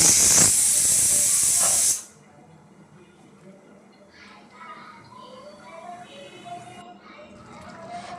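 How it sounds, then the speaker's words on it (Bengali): Potatoes tipped into hot frying masala for a Bogura-style beef and potato ghonto set off a loud, sharp burst of sizzling hiss for about two seconds, then the sound drops to faint crackling and light cooking noise. "মশলা কষানোর পর ঢেলে দিব আলু"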